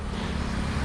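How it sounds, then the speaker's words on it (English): Steady road traffic noise in Chennai, India: a dense, continuous rumble of passing vehicles, loud and close, with no voices. "I'm sorry about the loud noise because, as you can see, it's a lot of traffic today."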